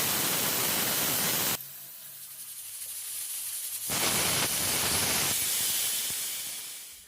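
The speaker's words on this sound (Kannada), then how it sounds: "ಕುಕ್ಕರ್ ಲಿಡ್ಡನ್ನು ಕವರ್ ಮಾಡಿ ನಾನಿಲ್ಲಿ 2 ವಿಷಲ್ನ ಕೂಗಿಸ್ಕೊಳ್ತಾ ಇದ್ದೀನಿ" A pressure cooker on the stove, cooking brinjal pulao, vents steam in loud hissing bursts, with a sharp cutoff, a quieter stretch, then renewed strong hissing that slowly fades.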